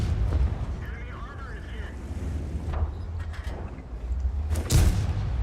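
A Panther tank in World of Tanks fires its main gun, a sharp loud boom near the end standing out over a steady low engine rumble and gameplay ambience, with an earlier duller thud.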